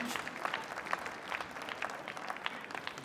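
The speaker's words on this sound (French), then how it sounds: "on les applaudit, s'il vous plaît" Applause from an audience at an international catering competition greets the Mexico team, a steady patter of clapping from a mid-sized crowd lasting a few seconds.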